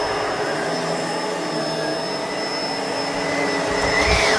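A Bissell vacuum cleaner runs steadily up close, a loud continuous whirring roar with a high whine, no pauses throughout.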